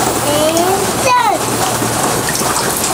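A GoPro housing is dunked and sloshed in water, producing continuous splashing and gurgling up close, with brief voice-like tones mixed in.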